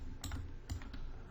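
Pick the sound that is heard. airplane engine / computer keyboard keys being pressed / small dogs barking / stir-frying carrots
computer keyboard keys being pressed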